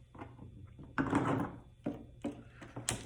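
A cheap staple puller pries staples out of the upholstery of a 2012 Toyota 4Runner armrest console, making a few short, quiet metallic clicks and scrapes separated by pauses.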